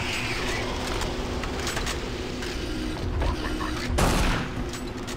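Rapid plasma rifle shots ring out in Doom 3 BFG Edition on Xbox One, a dense run of weapon fire and mechanical clatter with a louder burst near the end.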